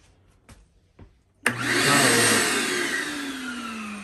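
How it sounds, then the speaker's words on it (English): A vacuum cleaner switches on after a couple of faint knocks and then runs steadily and loudly up close while cleaning inside an RV slide-out floor during a floor replacement. "Now I'm gonna do some vacuum really fast right up in here"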